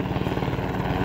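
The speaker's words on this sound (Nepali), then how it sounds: "हेलिकप्टर ल्यान्ड गर्दै गरेको अवस्था हो।" Helicopter landing at a rural site called Khunari Balfe: a loud, close, steady rhythmic chop of rotor blades over a continuous engine roar, with no talking.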